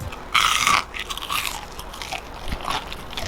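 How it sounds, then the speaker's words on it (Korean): A single loud, crisp crunch as something fried is bitten, followed by quieter crackly chewing up close. "식혀도 이렇게 바삭한 소리가 납니다"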